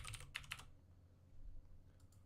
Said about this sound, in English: Get some keyboard ASMR while we're here.